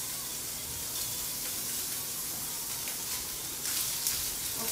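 Green onion and Spam fry in a hot pan for kimchi fried rice, giving a steady, close sizzle that runs without a break and swells a little near the end.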